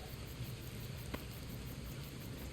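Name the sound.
rain in video game Gotham Knights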